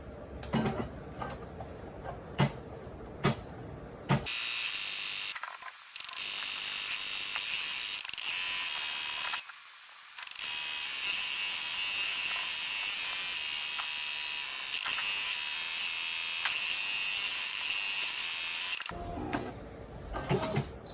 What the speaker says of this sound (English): And then we're going to embroider.